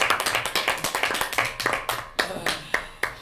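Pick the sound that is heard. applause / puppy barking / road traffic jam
applause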